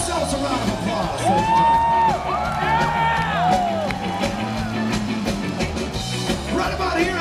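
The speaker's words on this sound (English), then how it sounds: "So please give yourselves a round of applause" A live crowd at a Rancid show at Amnesia Rockfest cheers loudly and continuously, with rising whoops and shouts over a dense roar of applause. A voice on the PA talks through part of it.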